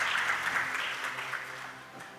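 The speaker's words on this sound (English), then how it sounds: "A round of applause." Audience applause at a global partnership forum in Busan, heard as a short burst of hall clapping that fades over two seconds.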